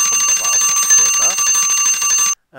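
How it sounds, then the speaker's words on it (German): A bell rings loudly and continuously in the Minecraft video game, a steady metallic trill with shimmering overtones that cuts off abruptly near the end. "Haben jetzt das Klingeln gehört."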